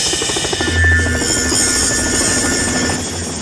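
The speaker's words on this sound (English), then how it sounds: "That's a helicopter." A helicopter approaches with a loud, continuous rotor thump and engine whine holding steady throughout, close and dominant with no other sounds.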